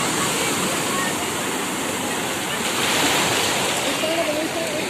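Sea waves crash and roll continuously onto Puri beach, a loud, steady roar of surf filling the scene without break.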